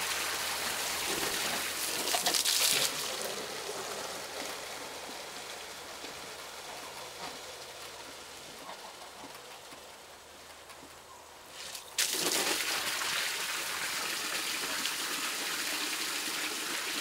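Water is poured for rabbits on a hobby farm in winter, a steady splashing gush that runs for several seconds, thins out, then returns loud and close near the end.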